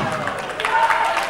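Crowd at an independent wrestling match cheering and clapping as the action builds, a steady roar of applause under a commentator talking over it.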